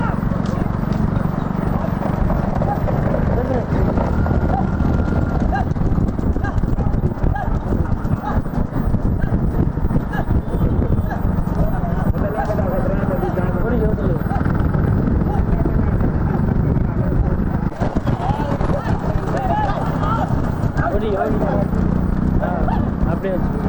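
Hooves of young bulls pounding along in a bullock cart race, a continuous loud drumming rush over crowd noise and an excited announcer talking throughout.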